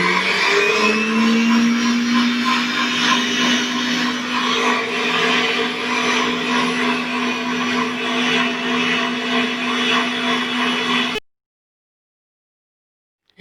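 An electric mixer whips egg whites at its top speed setting, a loud, steady high whine with a sustained motor hum that runs unbroken for about eleven seconds before cutting off abruptly into silence.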